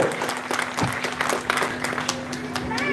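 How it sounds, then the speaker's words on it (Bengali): Applause at a political rally, a crowd clapping steadily with dense, overlapping claps at moderate distance, with faint voices and a low hum mixed in. "প্রত্যেকের কাছ থেকে জোরে করতালি আরো একবার রাম দাস মহাশয়ের জন্য"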